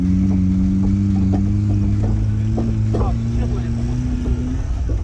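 A worn old minibus engine revved hard under heavy throttle, a loud steady drone with a rising tone, close up and continuous, while people talk over it.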